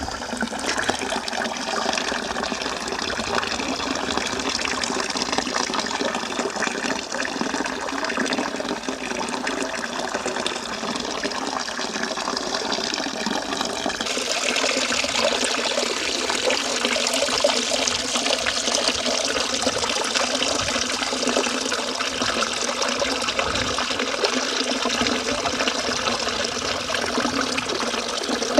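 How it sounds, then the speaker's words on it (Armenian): Spring water flows in a steady, unbroken rush and trickle in an outdoor natural setting, close and moderately loud, shifting slightly brighter partway through as the position changes. "Այս ջրի ձայնն էլ է ինձ խենթացնում,"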